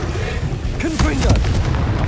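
A Confringo blasting spell bursts in Hogwarts Legacy with a short, deep boom and a crackling rush amid ongoing game noise. A voice speaks over it.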